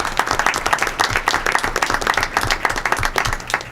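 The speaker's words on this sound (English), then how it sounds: "So please give him a round of applause." A crowd at a school board meeting claps together in a dense, steady round of applause, close and fairly loud throughout, with no one speaking over it.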